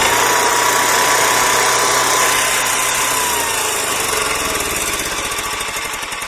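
An Onan 4000 Microquiet generator engine runs close by with a steady, loud mechanical drone and buzzing vibration, the low chug fading slightly toward the end.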